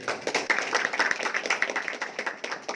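An audience claps at a community meetup, a burst of many hands applauding together, dense and fairly close, fading slightly toward the end.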